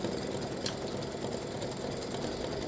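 An embroidery machine stitching the cone section of a patriotic ice cream cone design in tan thread, giving a steady, even mechanical whirr with rapid needle rhythm, close and continuous with no talking.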